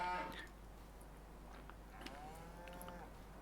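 Dairy cows on a farm in Farming Simulator 25 give faint, drawn-out moos against a quiet, steady ambient background.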